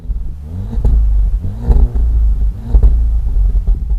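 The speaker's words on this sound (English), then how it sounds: "You can just feel that the car's trying to really scream, but it's being stopped by all the emissions" A Volkswagen Golf R MK7 engine revs hard with a deep, loud rumble, rising and falling in several surges over a few seconds with no talk.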